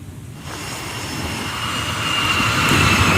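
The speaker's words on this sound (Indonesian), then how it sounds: "Jet tempur Super Hornet Angkatan Laut Amerika Serikat lepas landas dari kapal induk USS Abraham Lincoln." US Navy Super Hornet fighter jet launching from the aircraft carrier USS Abraham Lincoln, a loud continuous jet engine roar that swells steadily and stays close, with no voices over it.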